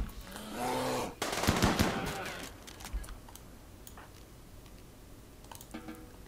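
A burst of rapid gunfire in the colony game Rimworld, a dense cluster of loud cracking shots over about a second, then scattered fainter pops and ticks against quiet game ambience.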